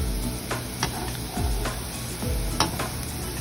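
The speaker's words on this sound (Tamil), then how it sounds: "மீடியம் ஃப்ளேமில் வச்சுட்டு இதை மெதுவாக நாம் பொறிச்சு எடுக்கணும்" Raw banana kola urundai balls deep-fry in hot oil over a medium flame, giving a steady close sizzle and crackle broken by a few clinks and stirring scrapes.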